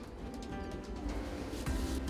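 A racing pigeon from Germany coos softly in a loft, low repeated murmuring calls close by with no talking.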